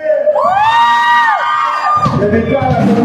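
A crowd at a ska concert shouts and cheers loudly and close by, with a long rising whoop, then a burst of mixed yelling and voices.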